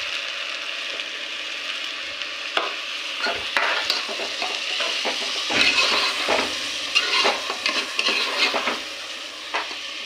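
Spoon scrapes and stirs through coconut milk and rice frying in oil in a pan, irregular scraping strokes over a steady sizzle, close and clear with no talking.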